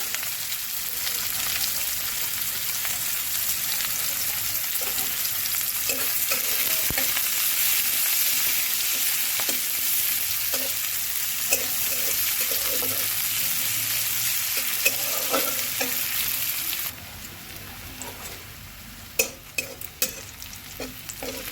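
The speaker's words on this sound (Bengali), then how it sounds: "রসুন পেঁয়াজ ভাজা হয়ে গেছে" Garlic and onion frying in a pan for a bean mash, a dense continuous sizzle with scattered crackles and light stirring clicks that drops off sharply near the end.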